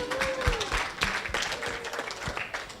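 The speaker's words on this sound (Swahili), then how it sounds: "Jamani ya makofi ya kichoyo kidogo." A small audience at a live forum gives a brief, thin round of clapping, moderately close, with scattered claps rather than a full ovation and a faint voice briefly audible.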